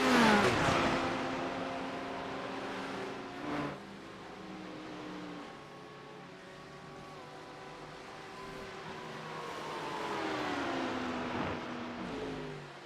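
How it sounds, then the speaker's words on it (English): A Lamborghini and a Porsche GT3 race car in a sim race drone past with steady high engine tones that rise and shift as the cars change gear, moderately loud and without talk. "Court in the Lambo and Jones in the Porsche"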